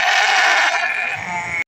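Sheep and goats bleat continuously at a busy livestock market, a dense, loud chorus of overlapping calls held steady for under two seconds before cutting off.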